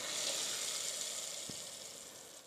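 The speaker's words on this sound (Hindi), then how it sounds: "अब ये तड़का मैं इस दही में डाल दूँगी" A steady, hissing sizzle of hot oil tempering poured onto cool yogurt, fairly quiet and slowly fading, with a soft thud partway through.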